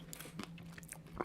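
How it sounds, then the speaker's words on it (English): Crispy bacon being bitten and chewed close to the mouth, a few quick dry crunches in a short, quiet burst over a steady low hum. "The way that's crunchy and the way that tastes is exactly like bacon flavour crisps"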